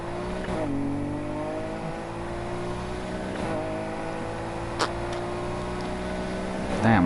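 A McLaren race car engine in Need for Speed Heat drones steadily at a sustained pitch throughout, rising into a louder rev near the end, with a brief sharp click midway.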